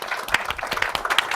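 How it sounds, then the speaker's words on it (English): A short burst of scattered hand claps comes from an audience applauding panelists at a discussion event, a few distinct claps close together. "Please give my panelists a very warm hand clap."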